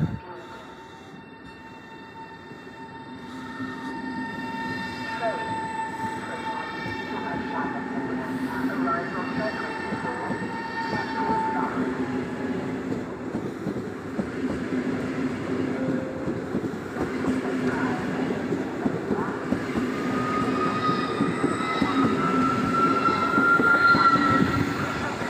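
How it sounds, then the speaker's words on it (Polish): An EIP express passenger train, electric multiple unit ED250, departs Warszawa Wschodnia station, its rumble and rolling wheels building gradually with faint squeals and clatter, and a voice sounds faintly in the background. "Odjeżdża pociąg EIP relacji Bielsko-Biała Główna,"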